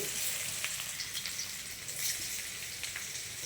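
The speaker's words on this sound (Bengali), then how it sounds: "তেল গরম হয়ে গেছে। আলুর পরোটার জন্য দিয়ে দিচ্ছি রসুন কুচি" Chopped garlic frying in hot oil for aloo paratha: a soft, fairly quiet sizzle with scattered small crackles and pops.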